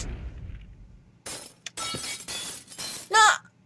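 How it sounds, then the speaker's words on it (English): Something shatters in the Pocket Mirror video game, with a series of sharp bursts of breaking glass, several crashes in a row ending with a bright ringing shard sound, loud and close. "She just shattered something."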